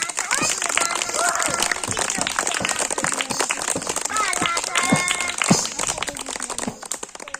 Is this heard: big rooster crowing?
no